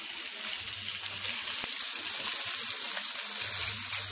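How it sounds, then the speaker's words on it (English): Pork chops fry in a pan with a steady, hissing sizzle filling the clip, close and continuous, with faint low rumbles underneath and no talking. "Back frying up some pork chop"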